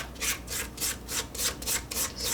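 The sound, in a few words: scraping cookie dough mixing bowl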